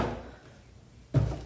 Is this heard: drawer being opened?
yes